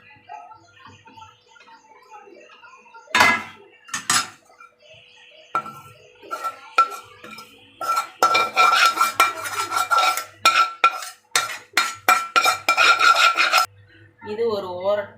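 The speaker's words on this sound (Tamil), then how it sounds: "இப்போ இதை நான் ஒரு தட்டில் மாற்றிக்கிறேன்." Cooked semolina dish scraped and moved onto a plate with a metal spoon, heard as soft scraping, then sharp clinks and a busy run of scraping and tapping against the pan, with quiet pauses between.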